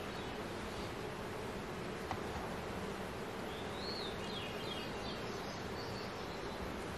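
Honeybees buzzing around an open beehive, a faint continuous hum close by with a bird chirping briefly in the background.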